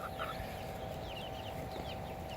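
Chickens cluck and chatter close by over a steady background hum, several soft calls overlapping without pause.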